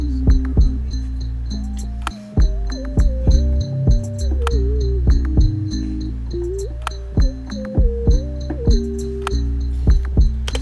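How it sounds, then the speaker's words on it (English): A sine-wave tone from a drum kit sample glides and steps through pitches like a sub-bass line, joined by punchy kicks and crisp hi-hat ticks in a looping beat. "like the sine one I just dropped in there."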